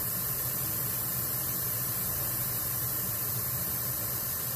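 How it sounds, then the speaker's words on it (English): An airbrush sprays alcohol ink onto paper with a steady, even hiss mixed with a low hum, continuous and fairly faint throughout, with no voices. "to create the larger petals, I hold the airbrush further away"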